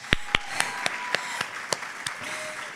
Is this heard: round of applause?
yes